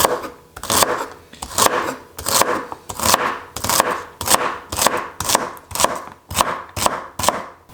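Knife chopping celery into small pieces on a board, a steady run of about a dozen crisp, close, even strokes with no talk.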